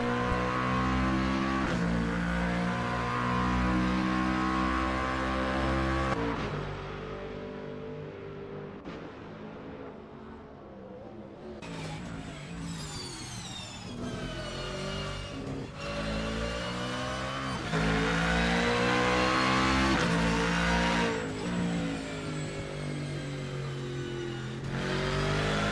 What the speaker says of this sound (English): you guys are hearing a lot of the amazing engine noises